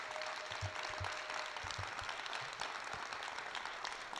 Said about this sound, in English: Let's give our speaker, Dr. Hill, another round of applause.